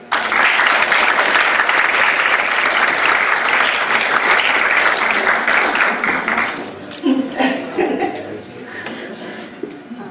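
A lecture audience applauds to welcome a speaker, loud dense clapping that holds steady for several seconds and then thins into scattered claps and shuffling.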